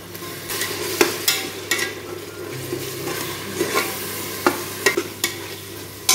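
Mint, coriander leaves, green chilli, ginger and garlic frying with tomato in a pan, a close continuous sizzle broken by regular sharp scrapes and taps of a spoon against the vessel.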